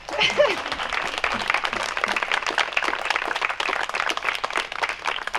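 A crowd gathered for an outdoor classroom opening claps steadily, many hands beating at a fairly even level throughout, with a voice briefly heard near the start.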